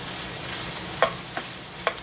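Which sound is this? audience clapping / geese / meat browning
meat browning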